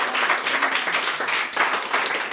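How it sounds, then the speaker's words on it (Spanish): Audience at a children's murga performance clapping for a ten-year-old girl, a steady dense round of applause filling the moment without voices. "vamos a darle un aplauso"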